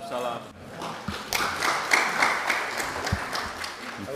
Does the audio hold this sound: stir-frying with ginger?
no